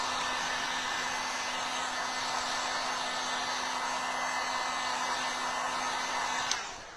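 A hair dryer blows continuously, close and steady, drying a tissue paper craft piece for a spring birdhouse decoration. The whirring hiss keeps an even hum and cuts off near the end with a small click.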